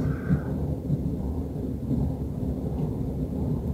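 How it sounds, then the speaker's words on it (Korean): A low, continuous rumble of thunder rolls through a rainstorm at night, steady and moderately loud over a muffled bed of falling rain. "천둥번개도 치고 있어가지고"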